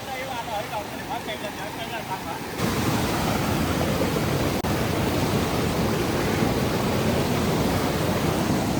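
Floodwater rushes at night during fishing in Konkan, a loud, steady broadband roar that swells after a quieter opening where voices can be faintly heard.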